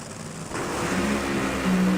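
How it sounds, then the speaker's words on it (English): An NHRA drag racing car roars at IRP, its engine a loud, sustained rumble that builds and grows louder toward the end. "You can hear Ashley's car."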